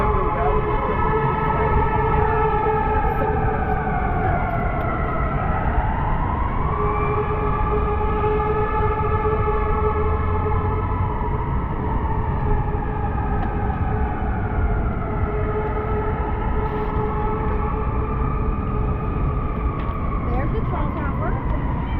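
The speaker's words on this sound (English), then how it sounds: "They're really revving up those engines tonight, or the sirens, I should say." Sirens wail along the Chicago River at night, several overlapping rising and falling tones sweeping steadily and loudly through the whole stretch over a constant city rumble, with a voice talking in the background.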